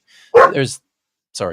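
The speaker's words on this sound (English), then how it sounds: "that's my dog." A pet dog barks indoors during a recorded conversation, two or three sharp close barks with a pause between them, mixed in with brief speech.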